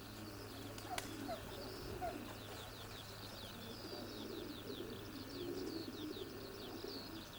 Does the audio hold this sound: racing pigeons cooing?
yes